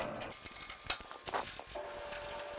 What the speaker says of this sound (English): Now we can actually take these nuts back off.